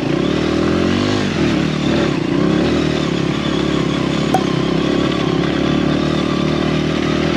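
Dirt bike engine drones loud and close while riding a hill climb on snow and solid ice, a steady motor roar with faint clatter and no talk.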